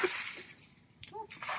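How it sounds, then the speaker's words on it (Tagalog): Rainwater poured out during cleanup after a typhoon, a brief splash and slosh of falling water near the end, preceded by a quieter stretch of faint background noise. "Tubig ulan yung binubuhos mo?"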